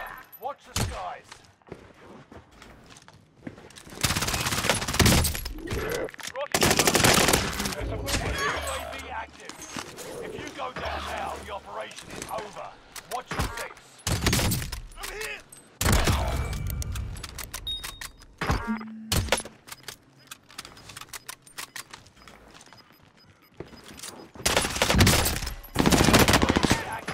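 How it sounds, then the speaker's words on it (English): Rapid gunfire from a Call of Duty Warzone match, including an M4A1 SMG, comes in loud repeated bursts and rattling volleys with short pauses between them, under a voice talking over the game. "We're taking fire."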